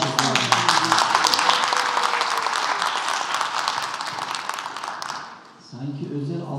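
Meeting audience at a 2023 fine arts faculty academic board gathering breaks into dense, sustained applause that fills most of the clip, then fades abruptly near the end as a few voices and a low murmur take over.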